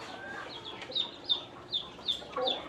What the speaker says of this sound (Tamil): நான் வளர்க்குற கோழிங்கெல்லாம் இந்த என்னை சுற்றி நின்றுட்டுருக்கு பாருங்கள்